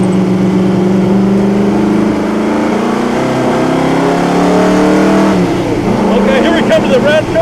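A historic race car engine at the 2008 Monaco Historique revs hard and loud and close, its pitch climbing steadily before dropping sharply on a downshift near the end, then picking up again with crackling overrun.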